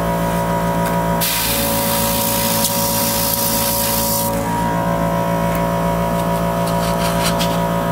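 An Iwata airbrush sprays paint onto a Gundam model part, a steady hiss of air that grows clearly stronger for a few seconds mid-clip and then drops back, over a constant hum of compressor or room noise with no talking.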